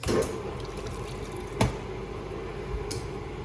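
Flushing liquid rushes steadily through the engine cooling system of a Hyundai Elantra on a test stand, a continuous close watery wash with a few sharp knocks.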